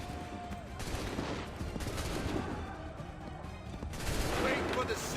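Musket volleys ring out in an Assassin's Creed 3 battle, with repeated broadband bursts of gunfire across the stretch and a heavier wave of shots near the end, while soldiers' voices call out between volleys.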